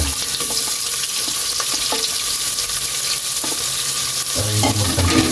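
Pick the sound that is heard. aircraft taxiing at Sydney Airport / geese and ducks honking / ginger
ginger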